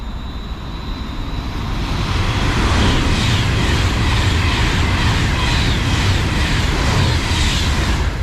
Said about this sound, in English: Right, coming through now, we've got another Avanti West Coast Pendolino.